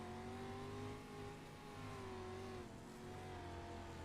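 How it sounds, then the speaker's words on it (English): Race car engine at a short-track race, the throttle held and modulated in a sustained high-pitched buzz with slightly wavering tones, steady and fairly close, with no talking over it. "Listen to that throttle response."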